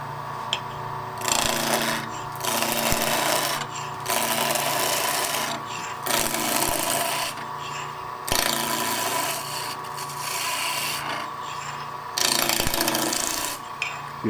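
A skew chisel cuts a spinning wooden blank on a lathe, giving a loud, steady rasping shave in repeated passes of about a second or two, separated by brief quieter pauses.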